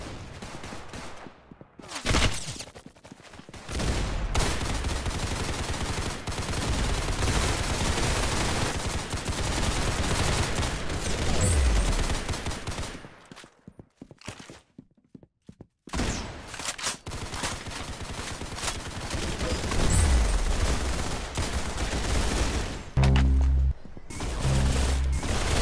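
Sustained bursts of loud automatic gunfire at a shooting range, dense rapid shots running nearly continuously with a couple of brief pauses, close and dominant.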